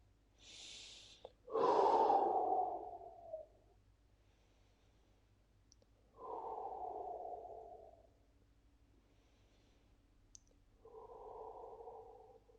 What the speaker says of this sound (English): breathing nice and deeply